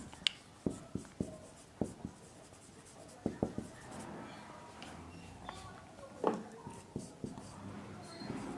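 Marker or chalk taps and scratches on a classroom board during a chemistry lesson, forming a series of short, sharp strokes with brief gaps between them over a faint room background.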